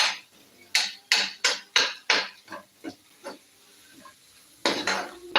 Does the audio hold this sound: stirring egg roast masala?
yes